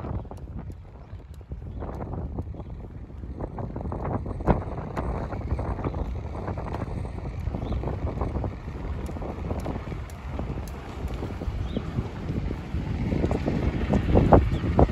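Strong wind buffets the microphone in continuous low rumbling gusts that swell louder toward the end, with no voices.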